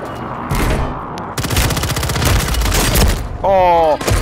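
Rapid gunfire bursts from a Warzone firefight, loud and close, rattling in dense automatic volleys from about 1.4 seconds onward with a shorter burst earlier, over a loud game soundscape and a brief rising electronic tone near the end.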